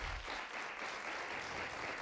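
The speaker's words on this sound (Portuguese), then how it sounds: "Podem aplaudir" A studio audience applauds on a Portuguese afternoon television talk show, a dense, even patter of many hands sustained for about two seconds at a fairly low level, with no talk over it.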